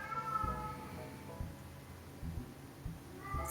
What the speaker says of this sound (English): cats are talking through the microphone